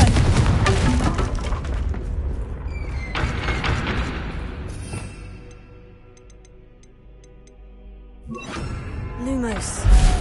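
Confringo fire spell bursts in the Hogwarts Legacy video game, with several loud booming blasts and crackling, shattering impacts at the start, a quieter rumbling stretch in the middle, then another sharp burst near the end.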